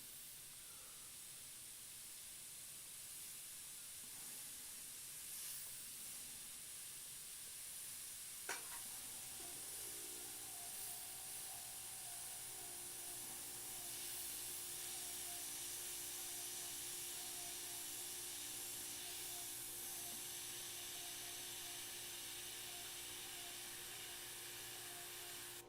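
Clogged, uncleaned airbrush spraying with a constant faint hiss, then a sharp click after which a thin steady tonal whine rides over the airflow for the rest of the stretch, with no voices.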